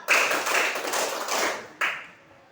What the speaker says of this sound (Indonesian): coba tepuk empat